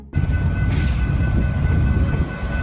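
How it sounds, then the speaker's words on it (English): A fire attack train, a railway vehicle fitted with firefighting equipment, rumbles past with a steady low roar and rolling wheel noise, loud and close throughout. "Fire attack train. A train equipped with firefighting equipment, used to combat fires along railway lines or in remote areas accessible by train."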